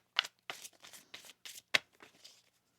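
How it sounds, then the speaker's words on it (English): Tarot cards shuffled by hand in a series of quick, crisp riffling bursts, about eight short rustles with brief gaps, close and fairly quiet. "One more shuffle here."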